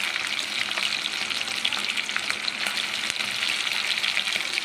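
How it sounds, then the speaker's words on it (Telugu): Chicken leg pieces fry in a pan of oil, a dense, steady sizzle crackling close and even throughout with no voices. "తర్వాత ఒక మీడియం టు లో ఫ్లేమ్లో పెట్టుకొని ఫ్రై చేసుకోవాలండి"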